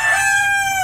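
A single rooster crow rings out close and loud in a farmyard, a clear sustained call lasting under a second.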